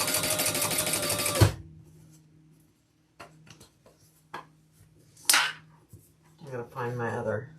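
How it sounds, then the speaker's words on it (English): A sewing machine stitches around a box on a leather wristlet crossbody bag in one loud, fast burst that stops abruptly, followed by scattered clicks, handling noises and brief talk. "we're going to stitch around our box, and I am going to decrease my stitch length to 3 again."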